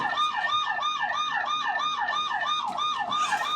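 A police siren sound played for a small child at home, with a close, loud, rapidly rising and falling electronic wail repeating evenly throughout and no talk.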